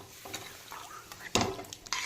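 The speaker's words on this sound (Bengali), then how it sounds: "এর মধ্যে দিয়ে দেবো চিকেন স্টক।" Chicken stock is poured into a hot pan of restaurant-style chicken vorta over full flame, bringing a soft sizzle with stirring and a few light clinks of utensil on pan, fairly quiet and close.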